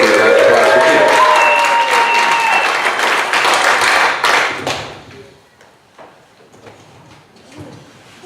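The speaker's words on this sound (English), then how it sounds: "So give a round of applause for Kia." Loud applause from a town hall audience at a nonviolence resource center greets a speaker, full and dense for about four seconds before thinning out into a few scattered claps and quiet room noise.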